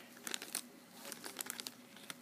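Crinkly plastic wrapping of a My Little Pony Cutie Mark Magic blind bag is torn open by hand, giving a run of quiet, close crackles and rips in uneven bursts with no talking.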